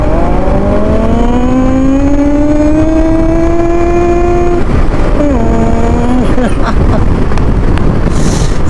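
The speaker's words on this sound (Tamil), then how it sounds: "ஒரு கியரை டவுன் பண்ணிட்டு ஏற்றுனா ஒரு சவுண்டு கேட்குது பாருங்க" A Bajaj NS200 motorcycle accelerates hard after a downshift, its engine whine climbing steadily in pitch. It dips briefly at a gear change, then climbs again, loud and close, under heavy wind noise.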